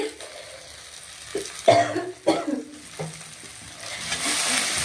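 Turmeric and chili powder frying in oil with tomato for a Bengali-style rohu fish curry: a close, steady sizzle broken by a few sharp scraping stirs of a spoon in the pan.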